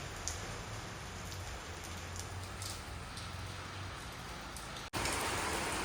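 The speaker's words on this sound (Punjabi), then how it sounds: "ਥੋੜਾ ਥੋੜਾ ਮੀਂਹ ਪੈਣ ਲੱਗ ਗਿਆ ਦੇਖੋ" Steady soft patter of rain falling on a surface, continuous throughout, briefly cutting out near the end before resuming slightly louder.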